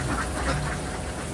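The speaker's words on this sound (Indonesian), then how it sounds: "Tapi ini di peternakan bebek milik Mas Puri, mantan TKI Korea" Dense, continuous quacking from a large flock of laying ducks on a duck farm, a loud, busy chorus with no talk over it.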